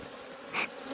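Honey bees buzz around hives at a Jamaican apiary, giving a steady close insect drone with one brief louder bee passing near.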